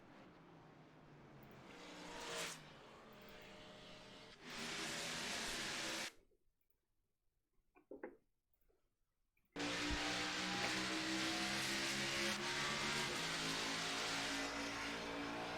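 Simulated race car engines from the iRacing Xfinity Series at Kentucky drone and rise in pitch, with a sudden break into near silence before the steady engine roar returns loudly, without talk.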